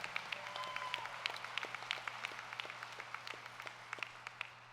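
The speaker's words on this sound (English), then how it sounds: "Please join me in a hearty applause of thanks to those board members who have stepped down" Scattered applause from an audience at a Moose Charities session, thanking departing board members. Individual claps crack steadily for several seconds, moderately near and fairly quiet, with a low steady hum beneath and no talking.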